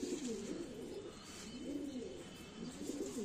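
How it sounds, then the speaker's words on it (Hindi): Soft, repeated coos of a domestic Indian pigeon roll in low, throaty phrases, close by and fairly quiet, with a rhythmic rise and fall and no talking. "ये तो हमारा देसी कबूतर है घर का"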